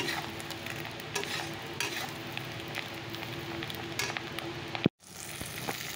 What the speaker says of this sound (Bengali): মাছের ঝোলটা বসিয়ে দিলাম আর মশলাটাও দিয়ে দিয়েছি